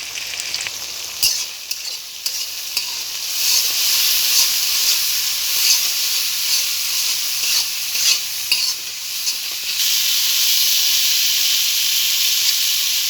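Fish frying in oil with chili, chopped onion, garlic, salt and turmeric, a steady close sizzle with stirring and hissing throughout, no voices.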